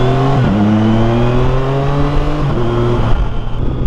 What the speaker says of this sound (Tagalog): Ganda na talaga ng tunog ng mga inline 3.